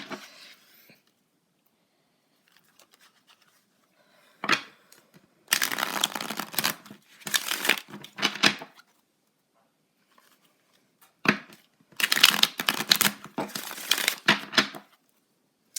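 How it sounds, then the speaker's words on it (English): Tarot cards shuffled up close in a few rustling, flicking bursts, with long silent gaps and a brief tap in between. "Guess I'm having a hard time shuffling."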